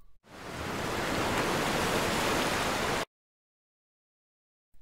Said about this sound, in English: So now you can hear the waves without.